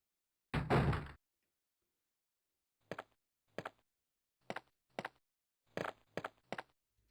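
In Resident Evil, an armor door gives one heavy thud, followed by a series of short metallic clunks and knocks at an uneven pace.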